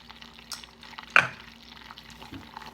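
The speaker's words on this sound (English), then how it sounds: "I'm going to stir it in real good" Spoon stirring brown sugar and half a stick of butter melting in a pan for bread pudding sauce: faint scraping and soft sizzle with one sharp clink of utensil against metal, no voices.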